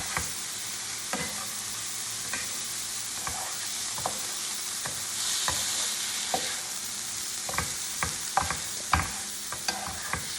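Cauliflower rice and shrimp stir fry sizzling in a pan on high heat, a steady close hiss broken by repeated scraping stirs and clatters of the utensil against the pan.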